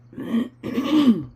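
A throat being cleared twice, a short rough rasp and then a longer gravelly one, close and fairly loud with no talk.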